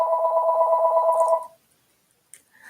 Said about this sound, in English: my phone keeps ringing.